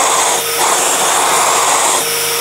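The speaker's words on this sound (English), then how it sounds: "You can really hear how it's sucking air through these holes here." A vacuum draws air through the holes of an orbital sander's pad, producing a loud, steady whooshing roar close up that dips briefly and then holds constant.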